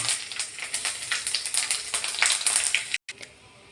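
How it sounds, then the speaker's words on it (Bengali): Whole garam masala, dry chilli and five-spice crackle and sizzle in hot oil with a steady, busy frying hiss, briefly cut off and resuming more quietly. "গোটা গরম মশলাটা দিয়ে দেবো, আর এদিকে শুকনো লঙ্কাটা দিয়ে দেবো, আর 5 ফোড়ন দিয়ে দেবো ফোড়নে।"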